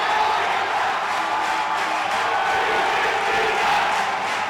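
Football stadium crowd at an AFC Asian Cup qualifier between the Philippines and Tajikistan roars steadily as the home side wins a corner kick, a dense sustained wall of cheering with no break across the clip.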